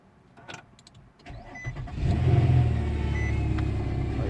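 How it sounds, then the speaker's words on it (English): Car starting with an empty power steering pump, a few clicks and a short crank before the engine catches and settles into a loud steady idle with a whining, groaning tone from the dry pump. "So right now I'll start the car, and the steering wheel is gonna start acting up because it don't have power steering fluid, but it's gonna start making noises"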